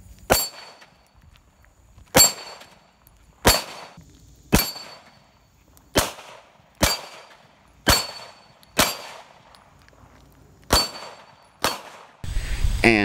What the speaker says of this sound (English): You can move and shoot.